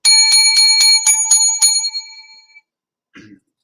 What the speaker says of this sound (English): I want to start off with 7 lucky bells.